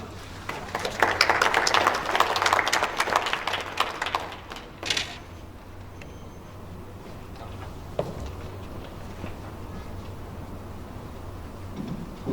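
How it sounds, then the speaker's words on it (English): Applause from an audience at a program launch for a presenter swells for about four seconds and then fades to scattered claps and room noise, with a faint background hum. "So let's give a big round of applause"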